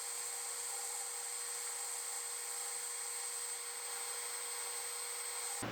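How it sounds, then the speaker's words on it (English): A lathe turning down the diameter of a Ford Explorer hub in a workshop gives a steady, high, whining machining tone with a faint hum underneath, continuous and close, with no talk. "Now I got the hub in the lathe, and we're turning down the diameter I need to turn down."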